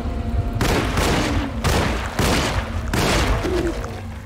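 Gunfire in the horror video game Alone in the Dark: a string of loud, broadband shots and booming blasts, roughly four bursts in quick succession with no talk over them.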